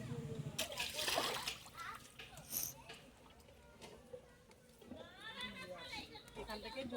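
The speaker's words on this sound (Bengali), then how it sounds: "এখান থেকে জল তুলে নিলাম" Water is scooped and splashed from a village pond at the bathing steps, with close sloshing and trickling, and people talk nearby throughout.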